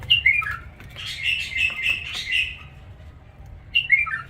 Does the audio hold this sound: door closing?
no